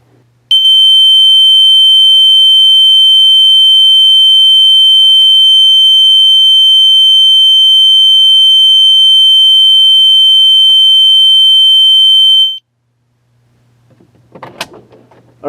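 A System Sensor L series fire alarm device sounds a steady, pure 3K continuous tone at low volume for about twelve seconds, close and unbroken, then cuts off abruptly, followed by brief handling clatter.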